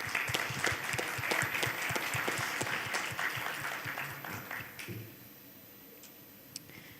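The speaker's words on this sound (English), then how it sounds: "Please join me with a round of applause to Engineer Noel." An audience at the SHIPTEK 2022 conference in Dubai bursts into dense, sustained applause that holds for about five seconds and then fades to near silence.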